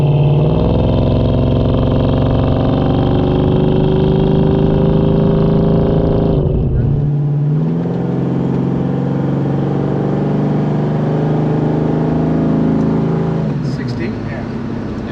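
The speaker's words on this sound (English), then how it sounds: "I'm gonna let that Hemi open up and breathe a little" A numbers-matching 426 Hemi V8 in a 1969 Plymouth Road Runner revs loudly and steadily up close, with a shift in pitch partway through as the throttle changes, under ongoing talk.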